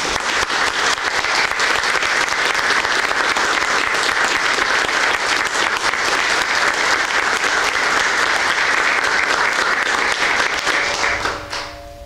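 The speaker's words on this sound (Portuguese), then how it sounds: "nós expressamos aplaudindo" Applause from a monastic community celebrating a brother's monastic profession, dense and sustained clapping from a group that holds steady for about eleven seconds and then fades out.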